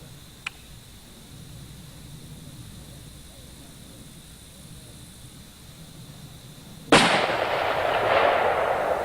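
A single loud rifle shot over a chronograph bursts out near the end after a quiet stretch, its sharp crack trailing into an echoing decay.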